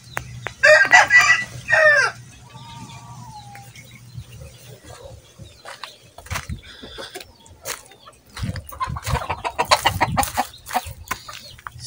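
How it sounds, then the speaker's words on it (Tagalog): Chickens and roosters in a small backyard coop, several loud nearby cock-a-doodle-doo crows followed by scattered clucking and rustling. "So ito bulik mga manok."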